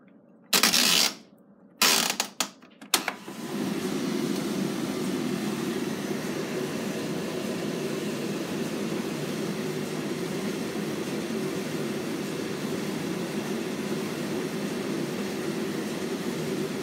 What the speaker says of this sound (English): this Indesit IS, I think it's a 7OV, IS7OV Indesit dryer test.